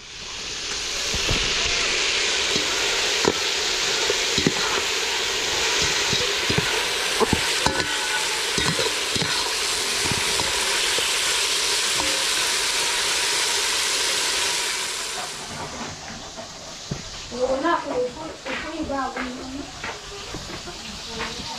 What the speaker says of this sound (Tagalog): At dito naman ay piniprito nila yung ampalaya.